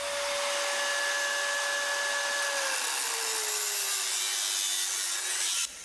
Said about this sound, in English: An angle grinder is a difficult machine to control, and if you run the grinder along the joints